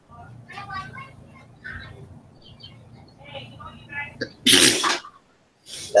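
A single loud, sharp sneeze bursts out near the end, following a stretch of quiet conversation in a room.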